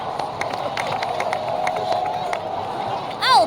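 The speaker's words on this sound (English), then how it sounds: "so please give another round of applause for them" Applause and cheering from a crowd in the Genshin Impact video game, a steady bed of clapping with a rising synthetic swoosh at the very end.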